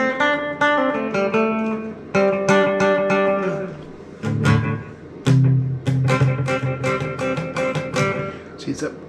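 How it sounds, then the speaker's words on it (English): Guitar notes through a Marshall MG100DFX amplifier's delay effect, reverb off, ring out with repeating echoes trailing each phrase, plucked melodic lines with decaying repeats, no one speaking. "turn off the reverb and you hear the delay"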